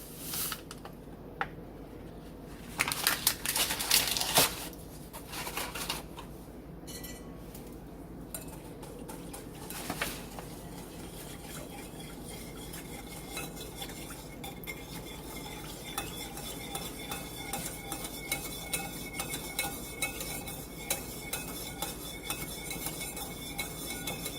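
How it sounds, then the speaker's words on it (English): Cake batter with orange gelatin mixed in a bowl, whisked with a steady scraping and clinking against the sides, a louder burst of rattling early on, then softer continuous stirring, close and fairly quiet. "You're going to whisk that in together."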